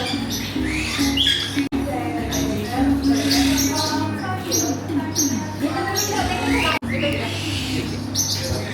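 Birds squawk and chirp repeatedly at close range in a noisy aviary in Thailand, with people talking throughout.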